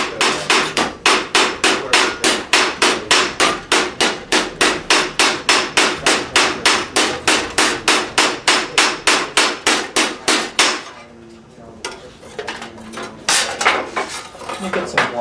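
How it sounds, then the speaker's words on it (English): Hammering metal during hot raising, a forging demonstration: a long, steady run of loud, evenly spaced ringing hammer blows, about three per second, then a pause and a few scattered strikes. "Do you have to use different hammers for the process, or just preference?"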